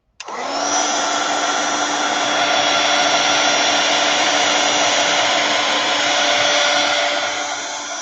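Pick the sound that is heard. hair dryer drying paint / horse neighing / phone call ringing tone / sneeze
hair dryer drying paint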